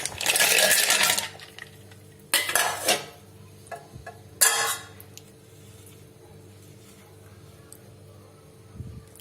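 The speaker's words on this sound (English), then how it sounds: "Now add some ice cubes." Ice cubes dropped into a jar of cold coffee and milk, a few sharp clattering bursts spaced a couple of seconds apart, close and loud, then quieter clinks and a near-silent pause.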